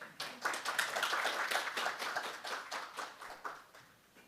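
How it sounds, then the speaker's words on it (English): Audience applause welcoming a speaker to the stage at an international forum, a steady patter of many hands clapping at moderate volume, with no speech. "Please join me in welcoming each speaker to the stage with a round of applause"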